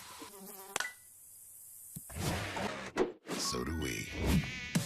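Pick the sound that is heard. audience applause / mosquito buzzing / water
mosquito buzzing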